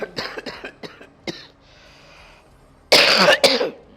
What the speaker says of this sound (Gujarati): ઉધરસ પણ કેટલી કયાગરી છે જોવો ને.